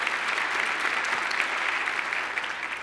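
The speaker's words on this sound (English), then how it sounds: "you can clap for that" Audience clapping at the 2014 New York City State of the City address by Mayor Bill de Blasio, a dense, steady round of applause from a large crowd, fairly close and continuous throughout.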